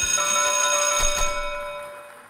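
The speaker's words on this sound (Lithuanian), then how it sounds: "Nuskambėjo skambutis" A bell rings in the Teleloto lottery game show studio, a sustained metallic ring that holds steady before slowly decaying and fading away.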